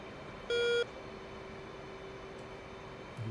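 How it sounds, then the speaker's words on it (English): A single loud tonal warning beep sounds briefly in an F-18 Hornet flight simulator game during a night landing, then fades to a quiet steady cockpit hum. "I'm getting loads of beeps"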